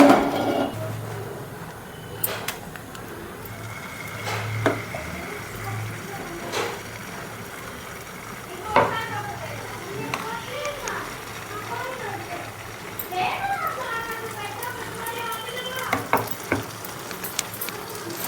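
A roti cooks on a flat pan with a little oil, giving soft intermittent sizzling and scraping touches of a utensil against the pan, with a voice talking over much of it.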